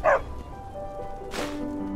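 A small dog in Skyrim gives a quick, bright bark near the start, then a second yip a moment later, both close and clear over a quiet game background.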